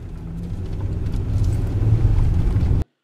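A car travelling along a freeway gives a steady low rumble of engine and road noise from inside the cabin, growing slightly louder before it cuts off abruptly, with no talk.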